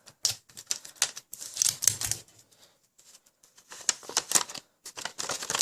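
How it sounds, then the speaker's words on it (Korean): Crisp crackling and snapping bursts of adhesive tape being pulled and pressed down onto a shaped Iron Man costume piece, close up, in irregular clusters separated by short quiet gaps. "테이프로 모양 찌그러지지 않게 빨리 붙여줍니다"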